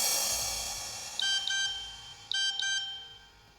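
A phone rings in a Hindi TV drama with two short pairs of electronic tones, each pair a quick double chirp, against a quiet hiss.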